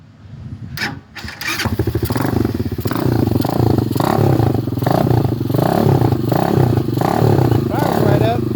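A Honda Hawk 250 scrambler motorcycle that has sat unused cranks briefly with a couple of sharp clicks, then fires up and settles into a loud, close, lumpy running rhythm with some mechanical clatter.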